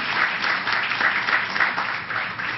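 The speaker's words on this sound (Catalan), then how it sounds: "El primer aplaudiment." An audience at a criminology conference opening gives a round of applause, a dense, continuous patter of clapping from a room full of people, steady throughout with no voices.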